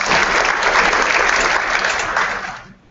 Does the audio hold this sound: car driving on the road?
no